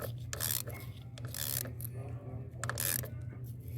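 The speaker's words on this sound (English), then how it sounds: "Keep torquing down like that till you feel." A ratchet tightens spark plugs on a 2005 Buick Rainier, repeated close rasping clicks in short strokes over a steady low hum.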